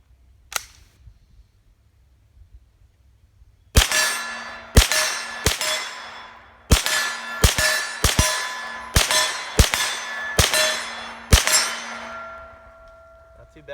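Ten sharp gunshots fired with cheap ammunition at a steel target, each with a ringing metallic clang that decays briefly, spaced roughly a second apart after a quiet lead-in, loud and close with no talk.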